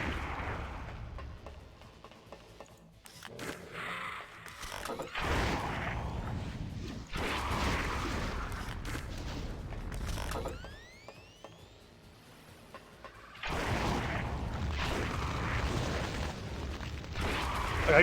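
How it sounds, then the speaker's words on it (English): Explosions from the first-person shooter Scythe 2 come as repeated booming bursts and whooshes in dense clusters, broken by short lulls, with a rising whistling sweep midway, no talking. "How nice are the explosions?"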